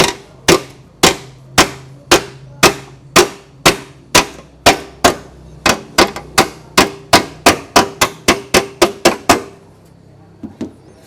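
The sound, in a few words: hammering a car fender back into shape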